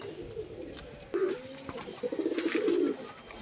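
Pigeons of various breeds kept in a small loft, giving soft, low, throaty coos in short repeated bursts, close and fairly quiet against a light background murmur.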